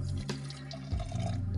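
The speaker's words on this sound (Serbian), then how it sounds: "Ja ne smijem da stavim sve odjednom, zato što vrela voda da mi ne bi prsla tegla." Hot water is poured into a glass jar while homemade natural laundry powder is being made. A short, steady, close pour gurgles and splashes briefly on its own.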